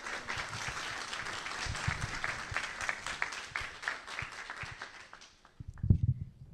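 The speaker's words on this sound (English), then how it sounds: "Let's give him a bigger round of applause." A meeting audience at a rainwater harvesting consultation claps in steady applause for about five seconds, fairly distant in the room, before it fades out and a few close knocks or handling sounds follow.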